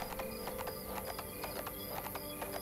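Horse hooves clip-clop in a steady, rapid rhythm as a horse is ridden along a road in the video game Ostwind, the beats even and close against a constant background.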